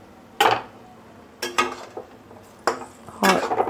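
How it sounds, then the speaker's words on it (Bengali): A metal lid lifted off a pot of cooking cabbage gives a few sharp clanks and scrapes, spaced about a second apart, close and fairly loud with no talking. "আমি ঢাকাটা তুলে দেখব"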